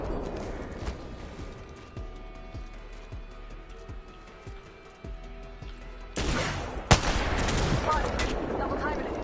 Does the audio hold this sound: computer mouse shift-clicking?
no